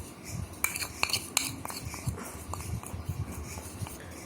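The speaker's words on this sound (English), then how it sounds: "take a mixing bowl and your mixing spoon and add the maida, refined wheat flour," A spoon scrapes and clinks against a mixing bowl while refined wheat flour (maida) is stirred, giving soft, irregular taps and scraping strokes, close and quiet, with no talking.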